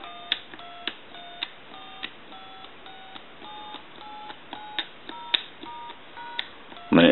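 Touch-tone dialing on an animated M&Ms Polyconcept novelty telephone: a rapid series of about a dozen short, evenly spaced DTMF beeps, each a two-note chirp, ending in a sudden loud burst.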